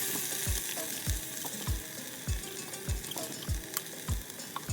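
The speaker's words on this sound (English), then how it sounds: "Now I'm going to add the chickpeas that we crushed." Crushed black chickpeas hit a pan of frying curry base, bringing a steady sizzle throughout, broken by regular low thumps of stirring about every half second, with no voices.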